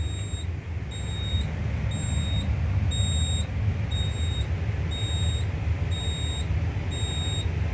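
A home smoke detector sounds during a fire alarm system test, repeating steady high-pitched electronic beeps in an even pulsing rhythm over a low background rumble, with no one speaking.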